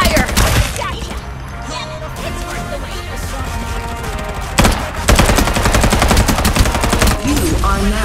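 Rapid automatic gunfire from the video game Farlight 84 rattles in loud, dense bursts with a brief pause near the middle, then resumes even harder alongside music and game sounds.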